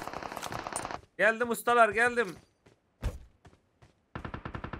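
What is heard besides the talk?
UMP submachine gun gunfire in PUBG Mobile video game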